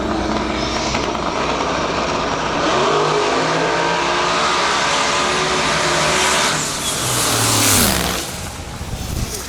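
Jacob Pearson's all-steel, all-glass drag racing car makes a Q2 qualifying pass at Lights Out 17: a loud, sustained engine roar that builds as it accelerates, with a brief dip before surging again and trailing off.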